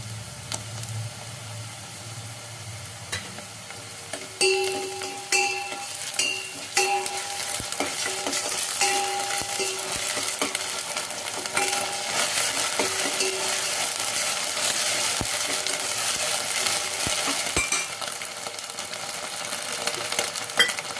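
Paneer, potato and pea gravy ingredients fry in a pan, with a steady close sizzle, occasional spoon scrapes and clinks, and the frying growing louder and denser after a few seconds; no one speaks.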